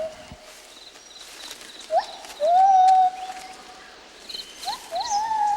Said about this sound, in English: This is the song of a male gibbon.